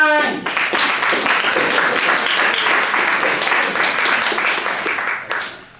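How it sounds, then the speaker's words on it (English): Live audience applause closing a comedy debate sketch on the Shakespeare authorship question: a dense, sustained burst of clapping from a crowd, steady and loud throughout, then fading away at the end. "can we get a round of applause for Michael Hines?"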